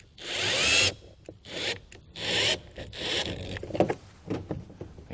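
A power impact gun drives a bolt while a K-Source custom flip-out towing mirror is fitted to a 2006 Dodge, giving several close, loud bursts of whirring and ratcheting separated by short pauses.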